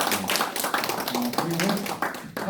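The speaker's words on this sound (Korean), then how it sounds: "박수 다시 한번 부탁드리겠습니다" Audience clapping after a panel discussion on world order and the Korean peninsula, a steady round of hand claps with voices talking over it.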